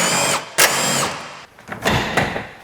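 A power drill zips out 10mm grille fasteners on a car front end in short, loud whirring bursts separated by brief pauses and light handling clatter.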